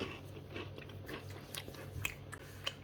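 Peanut biscuits are bitten and chewed close to the mic in ASMR style, with soft irregular crunches and mouth sounds, faint and without speech.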